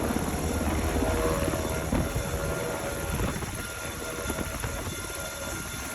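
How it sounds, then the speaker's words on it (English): A Black Hawk helicopter arriving: steady rotor thrum and engine whine hold at a fairly loud, constant level throughout, with no voices. "Blackhawk comes in."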